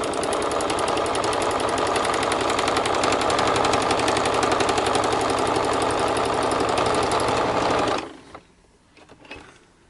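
A sewing machine stitching washi tape down onto a junk journal page, a loud rapid mechanical rattle running steadily for about eight seconds before stopping abruptly, followed by quiet handling noises.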